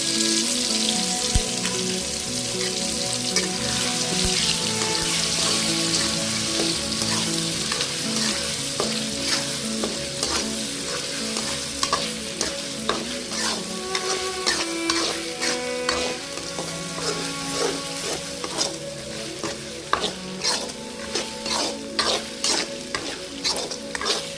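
Ground coriander chutney goes into sputtering mustard oil and is fried and stirred, giving a continuous crackling sizzle with repeated close spoon scrapes and clinks against the pan.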